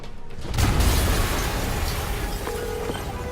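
An explosion in Spider-Man on PS4 bursts with a loud low boom, then fades into a long rumbling, crackling roar as debris settles.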